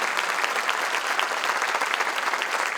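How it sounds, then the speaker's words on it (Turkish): Steady, dense applause from an audience at a concert event, an even wash of many hands clapping at constant loudness with no talk over it. "Kocaman bir alkış rica ederim"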